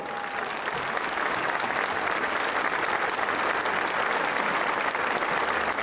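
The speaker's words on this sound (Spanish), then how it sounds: "¡Fuerte el aplauso!" Large congregation at a Marian religious gathering applauding as a saint's image is placed before them, a dense, sustained wash of clapping that holds evenly throughout.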